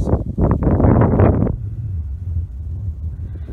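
Blustery wind sweeps past a small pond on a woodland walk, a loud roaring gust for the first moments that then drops to a softer, lower rumble.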